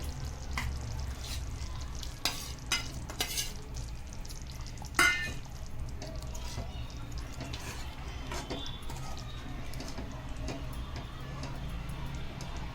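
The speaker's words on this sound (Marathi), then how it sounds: "ते आपण पनीर आता या आपल्या ग्रेव्हीमध्ये टाकूया" Paneer being stirred into a masala gravy in a pan, soft intermittent spoon scrapes and clicks over a low simmering bubble, fairly quiet and close, with no talking.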